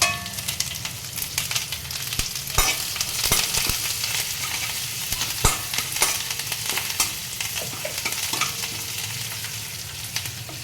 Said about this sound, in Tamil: இந்த லைட்டாக வறுபடட்டும்.